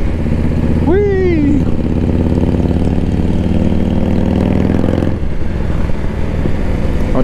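Someone's Yamaha XT1200 motorcycle engine drones loud and steady with a rising then falling whine, riding along sharp corners on a scenic road, under heavy wind rush with a brief voice exclamation.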